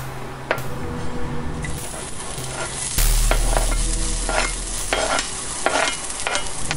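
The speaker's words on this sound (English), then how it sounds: "The ginger and garlic take the heat and the frying quite quickly" Ginger and garlic hit a very hot pan and hiss as they fry, with a steady sizzle, repeated scraping stirs and spoon clacks close by, and the sizzle swells louder partway through.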